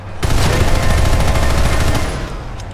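Rapid aircraft-mounted gunfire in Planetside 2 rattles out as one dense, continuous, loud burst lasting over two seconds, then breaks off abruptly, leaving a fading tail.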